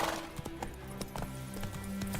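Roach, Geralt's horse in The Witcher 3: Wild Hunt, gallops along with rhythmic hoofbeats, steady and close, over a quiet game soundtrack.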